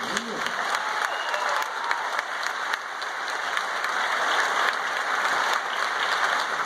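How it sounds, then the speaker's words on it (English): A live audience applauds steadily throughout at a 2016 event, dense and sustained crowd clapping at an even level with no pauses. "So one more round of applause, please."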